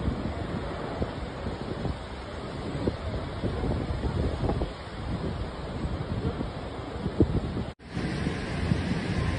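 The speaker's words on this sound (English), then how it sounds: "Water from the ocean in Saco Creek surged back and forth carrying massive tree trunks." Stormy ocean water surging back and forth in Saco Creek, a continuous rushing wash of water mixed with heavy wind buffeting the microphone, with a brief dropout near the end.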